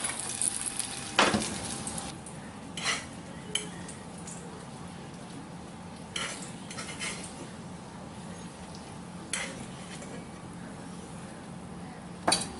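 Thawed frozen eggplant slices fry in a pan with a steady low sizzle, broken by occasional sharp clatters and scrapes of a utensil against the pan.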